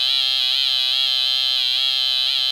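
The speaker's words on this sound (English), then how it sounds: "you might get a wobble noise, or just a rising tone if your LFO is running slowly enough." A bright, steady synthesizer tone wavers up and down in pitch with a slow, regular wobble from a slow sine-wave LFO, loud and alone.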